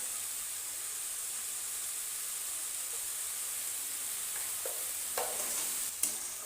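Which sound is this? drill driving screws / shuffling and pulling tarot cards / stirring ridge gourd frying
stirring ridge gourd frying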